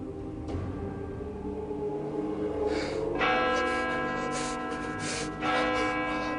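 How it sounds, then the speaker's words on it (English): Church-style bells chime with several overlapping struck tones that ring and sustain, entering one after another and building into a layered, resonant peal with no talking. "Bells will chime."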